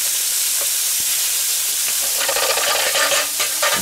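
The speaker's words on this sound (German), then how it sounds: "Und das brutzeln wir uns jetzt schön raus." Veal medallions sizzle in a hot frying pan in a kitchen, a loud continuous hiss of frying fat with crackling and spitting that intensifies toward the end, close up with no talk.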